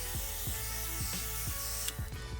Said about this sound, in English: It's spraying a nice mist.